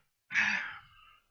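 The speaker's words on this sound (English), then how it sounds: "for some reason streaming makes me yawn" A single breathy yawn, close and fairly quiet, swells quickly and then trails off over about a second.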